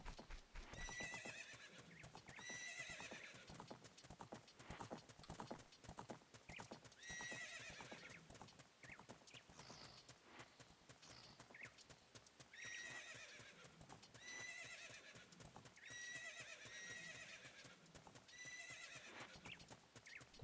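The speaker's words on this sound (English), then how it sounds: "Those are some very energetic horses." Horses clip-clop in a quick, steady rhythm while shrill neighs and whinnies break out again and again, loud and close throughout.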